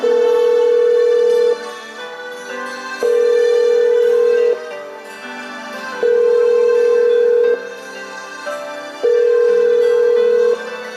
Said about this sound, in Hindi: मैं अपने बेटे बहू को फोन लगाती हूँ